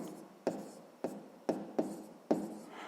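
Pen strokes on paper while writing out numbers for a sixth-grade math exercise: five short, separate scratches in a quiet room, each with a sharp start that fades quickly, and no talking.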